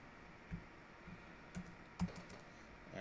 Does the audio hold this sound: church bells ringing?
no